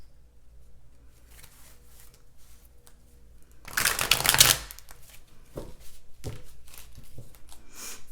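Tarot cards shuffled by hand in a quiet room: one dense, loud riffling burst lasting about a second, followed by a few soft taps and card handling sounds.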